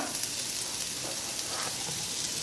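Sliced onion frying in a small amount of oil reused from earlier frying, a constant close hissing sizzle with light crackle that holds steady throughout.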